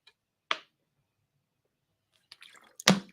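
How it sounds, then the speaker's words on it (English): Quiet sipping of water from a drinking vessel: a brief wet drip-like click, a pause, then a few soft slurping sounds and a louder final swallow, close and alone. "I'm just going to take a little sip of water here"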